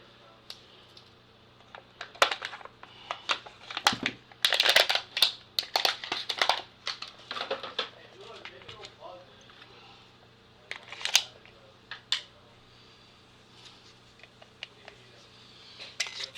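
A Glock magazine slides and clicks into a Ruger RXM pistol, with a run of close, sharp plastic-and-metal clacks and rattles as it seats, then quieter handling noises.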